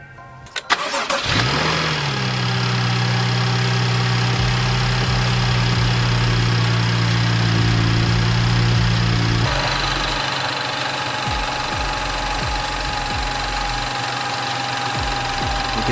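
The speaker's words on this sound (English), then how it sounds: "Now we can go ahead and start the car and just make sure the belt is running how it's supposed to." A BMW F30 car engine cranks and starts with a new accessory drive belt, tensioner and idler pulley, then settles into a steady close idle with a whirring belt tone and a faint ticking, with a noticeable shift in tone midway.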